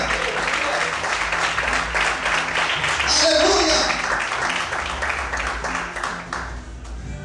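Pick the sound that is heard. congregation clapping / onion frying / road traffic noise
congregation clapping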